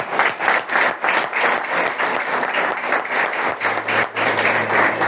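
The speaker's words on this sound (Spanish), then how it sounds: "Denle un fuerte aplauso a Dios ahí donde está." A church congregation applauds in a strong burst of clapping. It is dense and rhythmic, with periodic swells, sustained and loud across the room.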